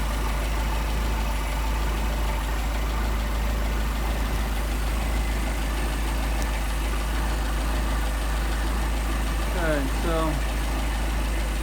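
A Mercedes 190SL with Solex carburetors idles low at about 650 RPM, a steady, even rumble heard up close while someone talks over it.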